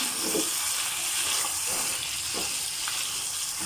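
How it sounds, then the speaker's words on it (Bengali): Crab roasting in a pan, a steady loud sizzle and crackle of frying with faint stirring scrapes, continuous and close, no talking. "দেখুন কষানো হয়ে গেল আমার কাঁকড়াটা।"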